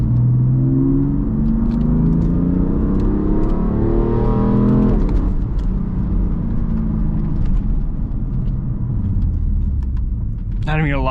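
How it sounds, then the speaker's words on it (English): BMW M3 with about 200,000 miles accelerating hard on a test drive, engine note climbing steadily through the gears with a shift near the midpoint, loud and close from inside the car. "It is time to go give this car a proper test drive."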